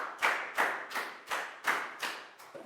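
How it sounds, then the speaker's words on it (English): A small classroom group claps for a student in a lesson, with seven or eight uneven bursts of hand claps rising and fading close by. No one speaks. "a big round of applause for Chew"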